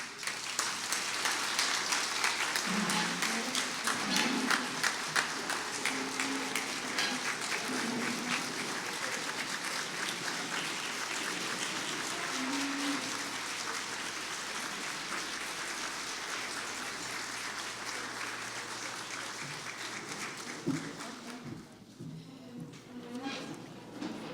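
A large audience applauds continuously, dense steady clapping lasting over twenty seconds, with a few voices faintly underneath before it tapers off.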